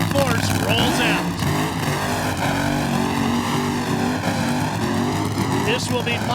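John Force's funny car drag racer rolls out at the 1995 NHRA World Finals in Pomona, California, its engine a steady, loud rumble throughout while a commentator talks over it.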